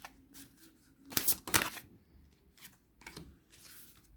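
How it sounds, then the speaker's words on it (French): Tarot cards shuffled in several short bursts, two loud close riffles in the middle with softer shuffling and handling before and after, heard alone without talk. "Il y a un mélange de cartes."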